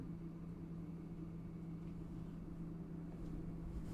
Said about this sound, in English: Oh no, it is a garbage truck.